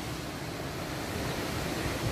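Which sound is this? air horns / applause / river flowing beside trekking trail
river flowing beside trekking trail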